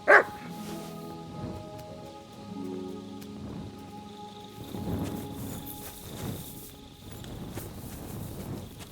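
A dog in the video game Kingdom Come Deliverance II barks a few times at moderate distance, set against a steady patter of rain and a low ambient drone with occasional tonal music.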